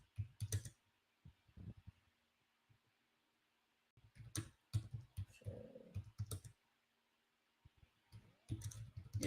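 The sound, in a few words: typing on a keyboard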